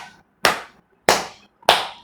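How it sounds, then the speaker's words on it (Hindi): Three sharp, separate claps made with the sides of the hands as an acupressure exercise, each a crisp, close smack spaced about a half second apart against near silence. "कम से कम 50-60 ताली हाथ के पार्श्व भाग में बजाइए"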